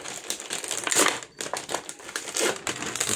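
Crinkly plastic packaging around ready-made cake bases being squeezed and worked open by hand, with close, loud crackling and crumpling in irregular bursts.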